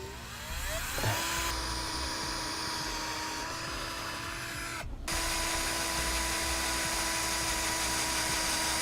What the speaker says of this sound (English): We'll take a drill now and go through each one of the holes